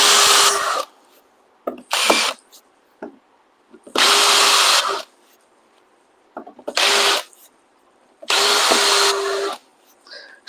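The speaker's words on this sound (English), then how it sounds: "Just doing a small countersink, nothing aggressive, just enough for the head to sit flat inside the plexiglass." A power drill countersinks a screw hole in plexiglass, with loud whining bursts of about a second each separated by quiet gaps and light handling clicks, heard close up.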